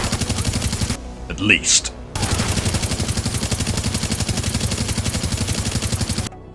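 Gunfire in The Division, a looter shooter: long, steady bursts of rapid automatic fire, loud and continuous, broken by a short pause where a voice speaks briefly.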